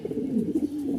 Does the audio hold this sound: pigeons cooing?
yes